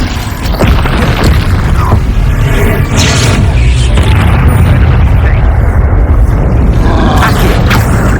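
A fire spell cast in the video game Hogwarts Legacy bursts into a loud, booming blast with roaring, crackling flames that carry on for several seconds, heavy and close, with scattered impacts layered through it.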